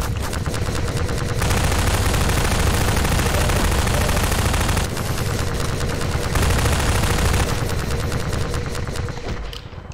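Sustained automatic gunfire in Half-Life 2 aimed at enemies' legs, rapid loud bursts rattling almost continuously with short breaks between volleys and no voice over them.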